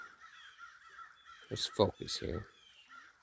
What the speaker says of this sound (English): You hear those crows?